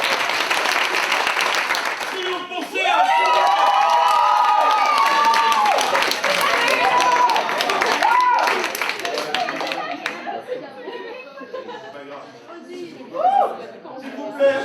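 Audience applause at a slam poetry workshop in a lycée: a burst of clapping from the room at the start, then a single voice speaks in French as the clapping fades.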